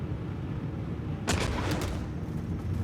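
Ballistic weapon fire striking ship armor in Star Citizen: a sharp burst of several rapid impacts cuts in over a steady low engine hum, fairly close and moderately loud.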